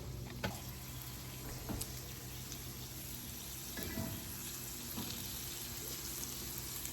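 Sausage fries in a pan, crisping into little bits, giving a quiet, steady sizzle with occasional soft clicks and scrapes from stirring, faint and without talk.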